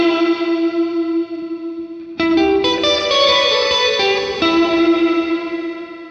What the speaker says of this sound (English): A nice kind of washy reverb.